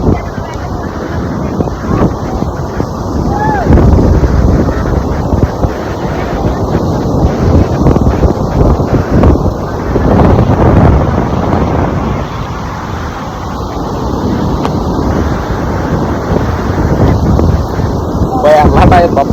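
Strong, dangerous sea waves and wind at Umrat sea batter the microphone with loud, continuous rumbling gusts and surging water, while people talk over the roar throughout.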